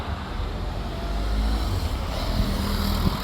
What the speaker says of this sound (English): That's that BMW, it sounds nice